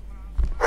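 A dog barks in a night-shift horror video game: a low rumble, then one short, loud bark burst at the very end.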